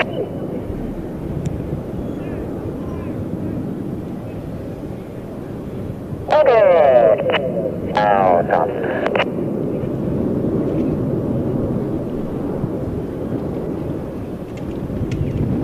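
Red Arrows jets of the Royal Air Force aerobatic team fly over an air show, giving a sustained, distant rumbling roar throughout, with a brief voice over a loudspeaker partway through.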